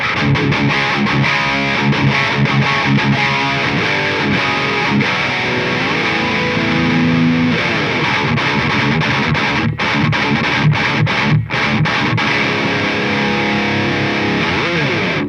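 An electric guitar played through an ENGL Ravager 20W amp at high gain, with dense, heavily distorted chugging riffs and sustained chords, loud and continuous throughout with no talking.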